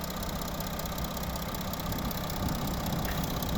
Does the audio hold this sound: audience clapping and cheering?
no